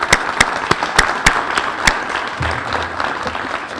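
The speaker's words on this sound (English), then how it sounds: "We applaud you, and may I applaud you all now." Audience clapping at a human rights awards ceremony in a theater, with a few loud, distinct claps standing out near the start over a softer, scattered background of applause that thins toward the end.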